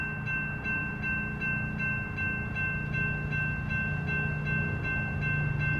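An eastbound Union Pacific freight train approaches on a main line, a steady low rumble and rolling hum holding loud and continuous, with a faint sustained tone above it and no voices.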